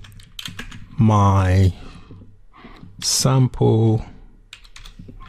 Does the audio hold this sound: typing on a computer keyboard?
yes